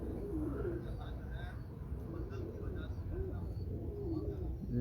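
Pigeons cooing with soft repeated low coos over steady background noise, as at a bird loft, while someone talks nearby.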